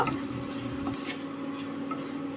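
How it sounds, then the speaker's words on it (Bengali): Figs frying with softened tomato in a pan, a soft steady sizzle with faint intermittent stirring scrapes, close and fairly quiet with no talk. "এই সময় ডুমুরগুলো ছেড়ে দেব ভালো করে কষিয়ে নেব"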